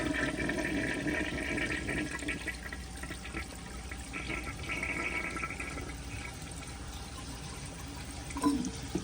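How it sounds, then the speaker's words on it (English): A 1975 Kohler Highline toilet flushes with a low-water, weak flush, giving a steady rush of running water that holds for several seconds before a brief gurgle near the end. "I don't think this will be enough water to flush it."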